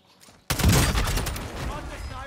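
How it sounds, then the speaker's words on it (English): A sharp, loud gunshot cracks from a sniper rifle in the Call of Duty: Warzone video game, then rings out into a long noisy decay of echo and scattered battle sounds. Quiet rustling comes before it. "That was a sniper"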